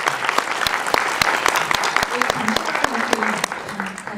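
An audience claps for the film directors at the close of a Korean screening talk, a lively round of applause with crisp, individual claps standing out near the front. A voice speaks over the middle and end of it.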